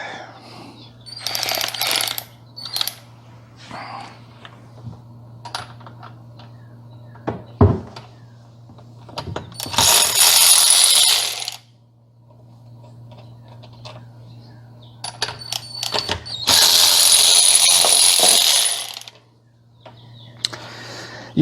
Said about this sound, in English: So let me get these plugs out.